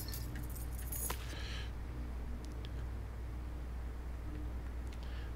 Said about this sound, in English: Here are my keys.